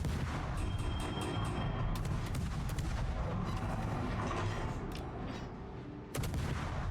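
Naval gunfire from World of Warships, a Tier 10 French destroyer Marceau firing shell salvos over an island, with repeated booming shots and rumbling bursts under a dense, continuous game soundscape.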